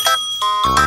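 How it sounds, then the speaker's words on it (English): A cartoon telephone rings loudly in short, bright, bell-like bursts that repeat with an electronic, tinkling tone. "What is that ringing?"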